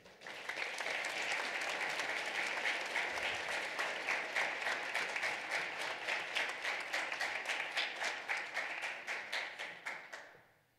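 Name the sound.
audience applause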